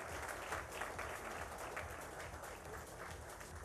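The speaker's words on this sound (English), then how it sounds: "Let's give them a big round of applause" An awards-ceremony audience applauding college and university winners, a continuous wash of clapping from a large crowd, fairly faint and even throughout.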